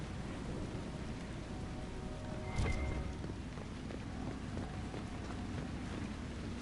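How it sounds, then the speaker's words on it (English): A rainstorm with thunder in Dragon Age: Inquisition: a steady, broad hiss of rain and wind, with one brief crack of thunder near the middle. "How we're not all dead from a lightning bolt right in our face"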